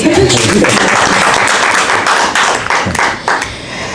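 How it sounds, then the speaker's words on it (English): An audience at a Fair Pay Bill announcement breaks into loud, close applause, a thick continuous patter of many hands with some sharper taps that tapers slightly at the very end. "I think that deserves a round of applause."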